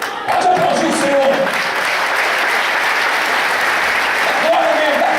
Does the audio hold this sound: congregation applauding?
yes